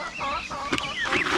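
A few surviving hens on a Filipino farm raising guinea fowl cluck and murmur close by in short, uneven bursts with no talk over them.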